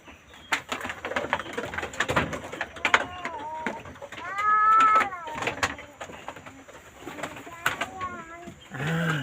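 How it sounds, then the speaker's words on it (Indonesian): Breeding pigeons in a village coo and purr close by in a few rolling bursts, mixed with clicks and rustling while people talk over them. "Iki bibitan doro wis sedang siap kawin."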